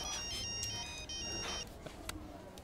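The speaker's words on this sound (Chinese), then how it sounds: "来来，爸爸接个电话。" A phone ringtone plays as a steady electronic tone during a casual scene with a father and his young daughter, heard up close for under two seconds before it stops, with faint background noise after.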